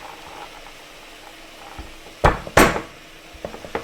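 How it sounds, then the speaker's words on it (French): Hazelnuts crushed on a kitchen surface: two sharp, loud cracking impacts close together, followed by a few lighter knocks, against a quiet kitchen background. "les noisettes, on va les concasser"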